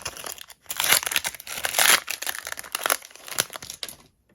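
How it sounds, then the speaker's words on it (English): Foil wrapping on a Disney Lorcana trading card pack crinkles and tears open from the center in several close, sharp bursts, ending in quiet. "the second pack doesn't want to rip in a typical way, so we'll do the little center rip there."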